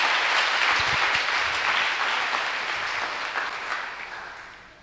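Church congregation applauding the Lord, dense clapping that starts loud and gradually fades over several seconds, with no clear speech on top.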